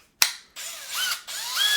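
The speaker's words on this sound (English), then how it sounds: "But I hate how loud the squeaky noise it puts off." Milwaukee rolling work station giving off loud, high-pitched squeaky whines and squeals in several sustained bursts after a sharp opening click, close up with no talking.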